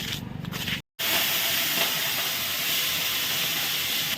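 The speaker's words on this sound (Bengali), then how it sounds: "মাছটা ভেজে রাখছি" Pabda fish frying in hot oil gives a strong, continuous sizzle and hiss close by, broken by a brief gap near the start and then steady to the end.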